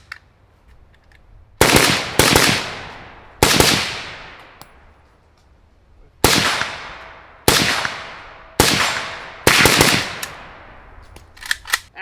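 An AK rifle fitted with a Liberty Torch suppressor and vented end cap fires loud, sharp shots close by, some single and some in quick doubles, each with a ringing tail, spread across about twelve seconds with a rapid burst at the end.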